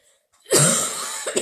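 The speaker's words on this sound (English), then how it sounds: "the cough has been seriously so annoying" A sick person coughs once, close and fairly loud, a harsh throaty burst with a short trailing rasp after a quiet moment.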